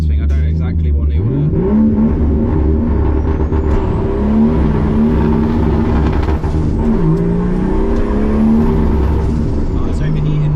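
A Nissan S13 with a 430bhp RB25 engine runs loud and close while overheating, holding a rough, steady idle whose droning tones waver and dip briefly around the middle.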